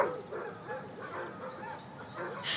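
Several dogs barking in a kennel, a steady run of overlapping yaps and barks at a moderate distance, continuing without pause under a faint room ambience.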